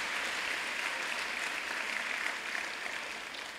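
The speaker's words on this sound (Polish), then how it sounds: "proszę o brawa, aby dotarły aż na Górny Śląsk" Audience applause at an award gala, a dense steady wash of clapping hands that holds strong throughout and tapers slightly near the end, with no voices on top.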